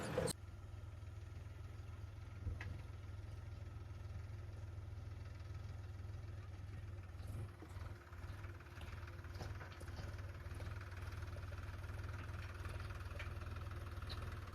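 A farm tractor, loaded with a trailer of manure, idles with a steady low mechanical rumble and faint knocking throughout, with no speech over it.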